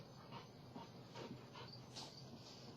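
A dog pants steadily at close range, rapid breathy huffs repeating under a constant noisy background, with faint whimpering mixed in.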